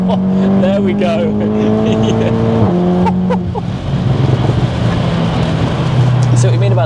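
A modified, daily-driven Cupra 280 tuned to 556 bhp drones loudly and steadily on the overrun, its exhaust note dropping in pitch as the revs fall, with people talking over it.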